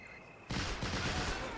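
After a quiet moment, a sudden loud burst of continuous World War II machine gun fire erupts in a Pacific airfield battle on Guadalcanal in the strategy game Men of War: Assault Squad, sustained rapid shots close up.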